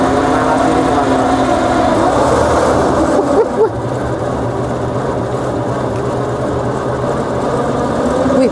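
A motorized machine for hauling cut pakchoi grass runs steadily at close range, its engine droning evenly throughout with a brief clunk partway through.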